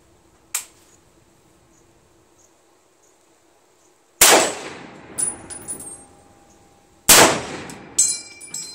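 An M1 Garand rifle fires at a steel target about 60 yards away, a faint early crack followed by two loud sharp shots several seconds apart, each trailed by clattering ring and echo.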